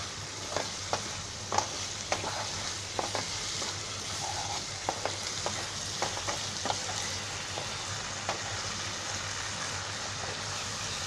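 Oysters frying in oil in a pan, Konkani style, with a constant close sizzle and repeated sharp taps and scrapes as the pieces are stirred and tossed at an uneven rhythm, with no talking.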